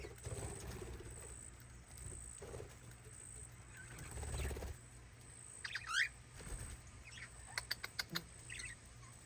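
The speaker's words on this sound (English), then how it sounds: "Got so many budgies." Budgies in an aviary chirp and twitter in scattered bursts, with a few sharp, rapid peeps near the end over a quiet, low background hum.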